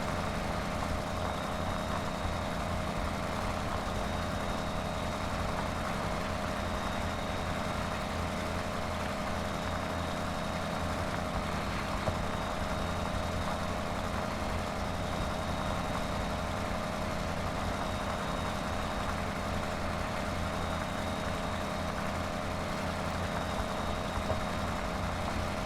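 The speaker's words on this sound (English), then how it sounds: "we're chisel plowing in the rain in an open station tractor" Open-station tractor chisel plowing in the rain in Farming Simulator 17, a steady low engine drone holding constant throughout with no talk.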